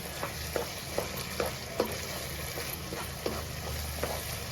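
Tomato cauliflower curry stirred in a pan, a spoon scraping through the thick gravy in soft, evenly spaced strokes over a steady low sizzle of cooking, close and alone with no talk.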